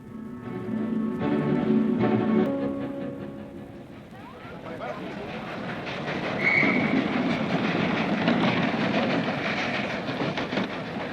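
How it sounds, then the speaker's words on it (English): Train pulling into a station in an old BBC radio drama, a rumbling rail roar with rattling carriages building and swelling mid-clip, with a brief whistle-like tone; voices are faintly mixed beneath. "Is the train late?"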